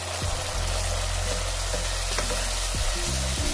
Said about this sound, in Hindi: सब मिर्चें डालने के बाद फिर भूने।